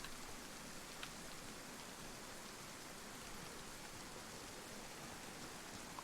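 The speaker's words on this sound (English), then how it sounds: "The rain is helping to muffle our footsteps if there was somebody here." Rain in the video game DayZ falls as a steady, soft, even hiss, faint and unbroken, with no voices or other sounds standing out.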